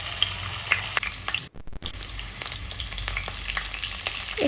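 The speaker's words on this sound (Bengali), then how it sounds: "এবারে আলুগুলোকে ভেজে নেব।" Potatoes frying in mustard oil in a kadai, a steady close sizzle with crackles and the scrape of stirring, briefly interrupted once.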